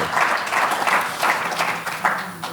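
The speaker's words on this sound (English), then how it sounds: "I think we need to just clap for ourselves" Workshop participants clap for themselves, a short burst of group clapping with a loosely pulsing rhythm, moderately close and without talk over it.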